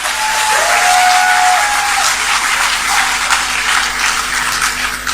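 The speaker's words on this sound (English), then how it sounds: "So why didn't you applaud that?" Audience applause at a project launch, a steady broadband wash of many clapping hands filling the space, loud and sustained throughout, with a faint tonal whistle early on.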